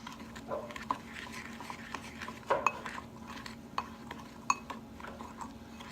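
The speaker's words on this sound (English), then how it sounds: "I'm just going to stir it up to incorporate all the ingredients into one." A dry spice mixture for Texas chili is stirred in a bowl, giving a soft scraping patter with several sharp utensil clinks against the dish, close and fairly quiet over a steady low hum.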